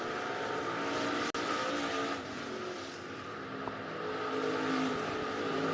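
Stock cars race around RPM Speedway in Hays, Kansas, in a heat, a steady distant roar of engines with some tire noise, heard faintly and without commentary over it.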